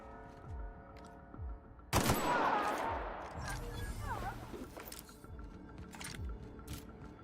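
Video game gunfire bursts in a burst of loud shots near the two-second mark, followed by a sustained rattle of fire and crashes that fades to lighter scattered shots, with no voices.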